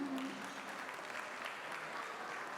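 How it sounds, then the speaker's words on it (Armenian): A wedding audience applauds, a faint, steady wash of clapping from a crowd that fills the whole moment without a break. "Ուզում եմ մի հատ բարձր ծափարենք քույրիկների համար"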